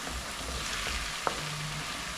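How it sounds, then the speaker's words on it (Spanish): Nopales frying in a pan with tomato and onion added, a steady soft sizzle with a brief clatter of a utensil, no talking. "les voy a agregar lo que es el jitomate y la cebolla. Esto lo voy a agregar pues ya todo junto"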